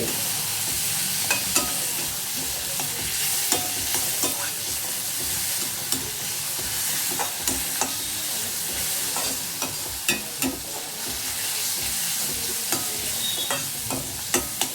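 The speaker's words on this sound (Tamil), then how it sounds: "தக்காளி நல்லா வதங்கட்டும்" Steady sizzling of tomatoes frying in a pan, with occasional scraping and stirring clicks from a spoon, close and fairly loud, no voices.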